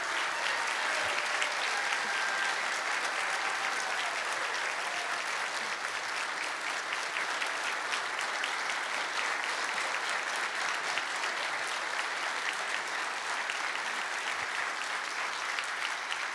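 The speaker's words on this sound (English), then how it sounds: "Round of applause, please." A crowd applauding after a new Mission police chief is sworn in, a long, even, sustained roar of clapping that holds steady from start to finish without talk.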